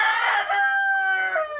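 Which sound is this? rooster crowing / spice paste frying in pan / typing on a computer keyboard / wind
rooster crowing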